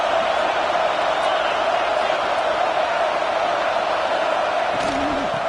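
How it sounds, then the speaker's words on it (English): A large college football stadium crowd roars continuously, a dense, loud wall of cheering and shouting that holds steady throughout. "this crowd is fired up. Listen to this noise here."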